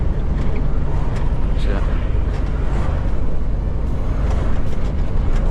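A truck engine rumbles steadily up close as the vehicle backs up to a loading ramp, a continuous low drone with road and cabin noise throughout and no clear beeping.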